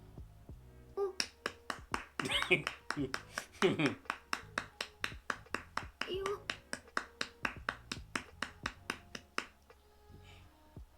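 One pair of hands claps in a steady, repeated rhythm, sharp close individual claps continuing throughout, with a voice talking over them in the middle.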